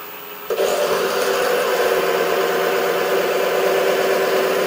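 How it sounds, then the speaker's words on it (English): A wood lathe spins up at about 800 RPM, a steady loud whirring drone with a constant mid-pitched motor tone that starts abruptly after a brief quiet moment and runs unchanged. "reduce the speed of the lathe to about 800 RPM"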